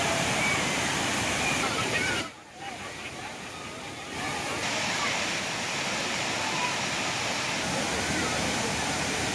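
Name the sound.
Thirparappu waterfall with crowds of tourists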